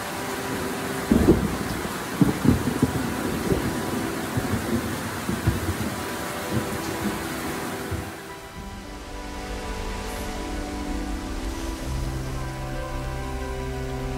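Steady rain with low rolling thunder and a few sharp rumbles early on, easing into a quieter, even wash of rainfall later, with no voices.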